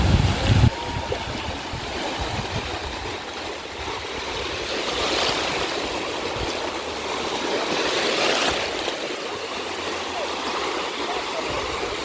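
Sea waves rolling in at Bakkhali sea beach, a steady broad wash of surf with gentle swells rising and falling throughout, close and fairly loud, with a brief bump of other noise at the start.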